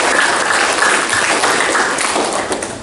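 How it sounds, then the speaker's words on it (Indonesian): A seminar audience at a university campus in Palu breaks into loud, sustained applause, a dense wash of many hands clapping close by that fades slightly toward the end. "Tepuk tangan untuk UIN."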